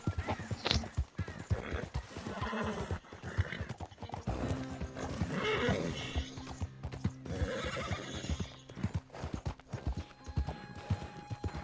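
Horse neighing and hooves clip-clopping in the video game Red Dead Redemption 2, with repeated close hoofbeats and whinnies over a busy game soundscape and faint speech.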